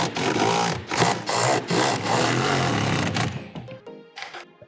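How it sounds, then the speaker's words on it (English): A cordless impact wrench snugs bolts on a Minn Kota Terrova QUEST trolling motor mount at slow speed, loud close bursts of whirring and hammering separated by short pauses, tapering to lighter rattles at the end. "I like to use an impact wrench."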